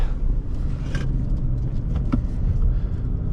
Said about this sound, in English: Let's check out its cornering ability.